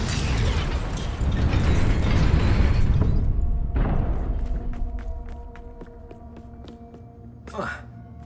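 Confringo blasting spell detonating in Hogwarts Legacy: a loud, sustained roaring burst that slowly rumbles away, followed by quieter tonal magical shimmers and a brief whooshing flourish near the end.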